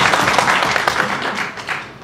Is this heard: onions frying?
no